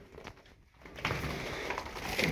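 Domestic tumbler pigeons coo softly in a loft, a faint low murmur under steady background noise that grows a little louder halfway through, with no voices.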